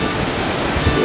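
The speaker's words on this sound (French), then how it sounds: "Il y a des grosses vagues là-bas." Ocean surf breaking on the shore at Tenerife, a steady broadband wash of waves heard up close and fairly loud, with no voices over it.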